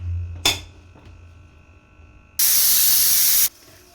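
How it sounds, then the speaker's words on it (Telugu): Steam bursts from a pressure cooker on the stove during a mutton and ridge gourd curry, a loud sustained hiss lasting about a second, preceded by a faint clatter and low background hum. "4 విజిల్స్ వచ్చిన తర్వాత స్టవ్ ఆపేసేయాలి."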